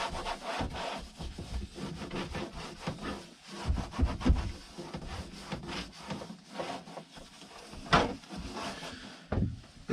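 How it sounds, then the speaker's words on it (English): A cloth rubs back and forth over an RV shower surface while it is wiped down with isopropyl alcohol, giving close, steady scrubbing strokes with uneven loudness. "I'm just rubbing this down with some isopropyl alcohol."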